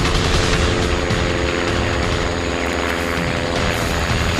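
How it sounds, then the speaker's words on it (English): A spotter plane flies overhead in the Amazon, its propeller engine a steady, loud drone that fills the whole stretch without pause or voices. "I hear that noise, and I listen to the noise because it's so foreign, and I start realizing it's an airplane."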